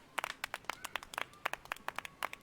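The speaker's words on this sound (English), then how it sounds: "I got to give the golf clap to Terry" Slow, sparse golf clap during a Twitch pinball stream, with soft single claps landing at an uneven pace and no one talking.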